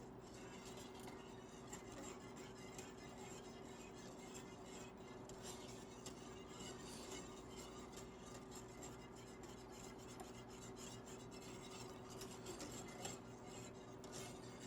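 Milk stirred steadily in a pot while heating to make ricotta cheese, a soft continuous scraping and rubbing that runs evenly throughout without pause, with no talking.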